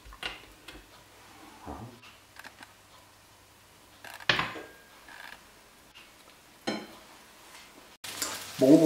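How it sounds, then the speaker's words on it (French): Food browning in a frying pan, with bursts of sizzling and clattering handling that come and go, a few intermittent sharp ticks and scrapes, and a louder, denser sizzle at the very end. "je les ai fait dorer sur chaque face pendant 4 minutes"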